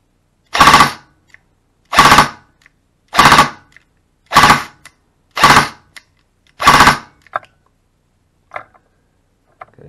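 Airsoft gun fitted with a Warfet firing full auto: six loud, close bursts of rapid shots about a second apart, then a few faint ticks and clicks in the quiet after.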